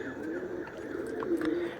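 Pigeons, including a black one, cooing softly in a domestic loft, a low steady murmur of overlapping coos with a few brief brighter calls near the end.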